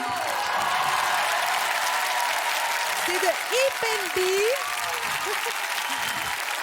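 A television studio audience applauds after a French pop song. The applause is loud and continuous throughout, and someone speaks over it in the second half.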